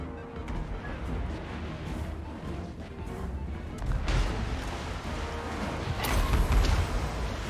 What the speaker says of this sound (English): taking the organ gun shots